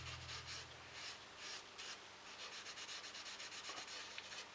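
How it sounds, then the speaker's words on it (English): Silver gilt is rubbed by hand into turned sycamore wood on an ornamental wall hanging, making faint, soft, repeated scrubbing strokes close by. "I'm going to rub the silver gilt into."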